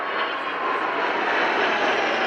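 Spanish aerobatic team Patrulla Aguila jets flying past in formation at an airshow, a steady loud broadband roar of aircraft engines sustained throughout with no pause.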